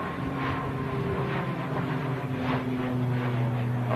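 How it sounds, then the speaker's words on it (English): An Aer Lingus ATR-72 turboprop climbs away after takeoff, its steady propeller drone holding tonal hum lines under broadband roar, loud and continuous without voices. "Aer Lingus, ATR-72, rotating really early, as per usual for the turboprop airliners"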